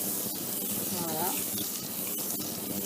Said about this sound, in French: On fait fondre le beurre comme ceci.